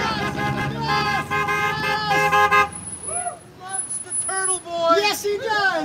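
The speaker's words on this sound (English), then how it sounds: "Even the mailman is honking." Horns from passing cars and a mail truck toot in short bursts along a street while people cheer and talk loudly over them, with a high, steady whine in the later part.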